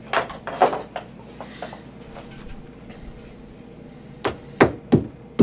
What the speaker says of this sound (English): I just hammer down that prong